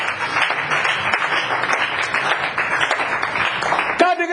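A church congregation claps loudly and steadily in praise, a dense wash of applause that runs throughout before a voice cuts in near the end.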